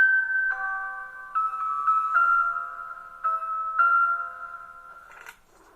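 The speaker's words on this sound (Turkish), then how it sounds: "telefonunun zil sesi yanında çalıyor" A bright electronic ringtone chimes a stepped melody, clear and alone, ending with a brief click.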